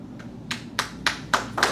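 A single person clapping for a young author at a meet and greet, about six sharp hand claps in a slow uneven rhythm, close and fairly loud with no talk.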